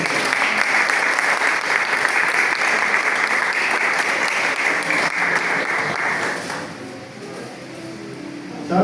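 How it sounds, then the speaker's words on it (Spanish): A church congregation at a Sunday service gives strong applause, a dense and even wash of clapping that carries on for several seconds before fading down into quieter room sound. "Denle un fuerte aplauso a Cristo."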